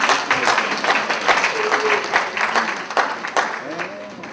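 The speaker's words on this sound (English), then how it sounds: "Let's give ourselves a clap." Audience at the Egba National Convention lectures gives itself a round of clapping, a dense burst that gradually thins, with voices talking and calling out under the applause.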